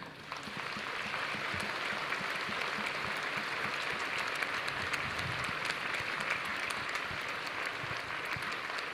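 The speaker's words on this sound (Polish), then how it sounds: "Podziękujmy Królowi naszemu oklaskami." Sustained applause from a congregation in a church, a steady dense clapping wash that fills the space for the whole stretch, loud and even with no voices over it.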